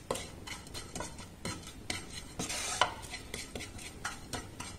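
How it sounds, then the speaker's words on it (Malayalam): A spoon stirs sautéed raw mango pickle in a pan over a low flame, making a series of soft, close scraping strokes in an irregular rhythm with no voices. "ഇനി നമുക്കൊന്ന് ഇളക്കി കൊടുക്കാം"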